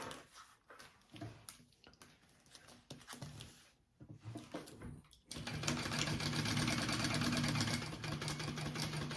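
A sewing machine bastes a slip pocket onto the front panel of a crossbody bag with a 1/8-inch seam allowance. Quiet handling noises come first, then a steady, loud mechanical whir runs continuously for the final few seconds.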